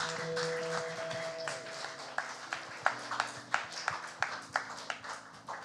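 Church congregation at a university group Sunday service clapping to welcome a member coming forward, the clapping building into a run of sharp, evenly spaced claps over a sustained musical drone.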